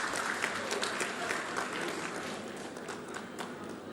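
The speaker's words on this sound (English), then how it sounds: "Kindly, a big round of applause," Steady applause from an audience at a foundation-stone ceremony for a badminton academy in Visakhapatnam, with dense close clapping that carries on for several seconds before easing off.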